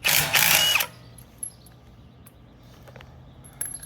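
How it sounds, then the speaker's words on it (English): A Ridgid 18V brushless three-speed impact driver removing a lug nut: a loud, close whirring burst in the first second, then a quiet workshop with a few faint clicks and a brief rattle near the end. "I'm just going to take off the lug nut here."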